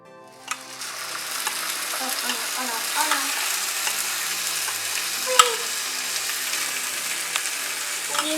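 Chana dal paste is stirred in a frying pan for a sweet poli snack, with a steady close sizzle and spoon scrapes throughout, plus one sharp clink midway.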